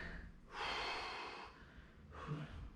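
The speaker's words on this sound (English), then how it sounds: "Breathe in, hold it, and breathe out and try to get in deeper" Two deep breaths during a full-body HIIT workout stretch: a long, loud inhale followed after a pause by a shorter second breath, close and breathy with no talking.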